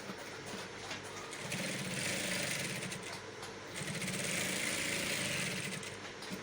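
Sewing machine stitching Ankara fabric with a facing piece, a steady mechanical whir that runs throughout in two sustained bursts, close and moderately loud with no talk.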